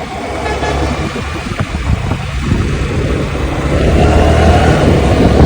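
A Honda Dio scooter rides at speed on the road, with a loud, close engine drone and rushing wind that builds steadily toward the end, and no talk over it.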